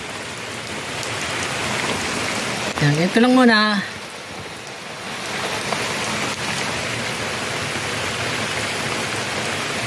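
Continuous rain patters and hisses throughout, with a brief spoken phrase rising above it early on.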